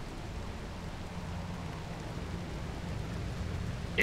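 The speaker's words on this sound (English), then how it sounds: "we made him a little safe place to sleep outside of the rain" Rain in the video game Rimworld, a steady, even hiss of falling rain that continues unbroken and fairly loud, with no talk over it.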